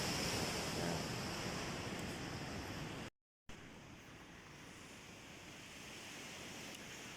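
Sea waves roll steadily at a beach resort in Lian, Batangas, at night, a continuous broad wash of surf with light wind, cut by a brief gap of silence partway through.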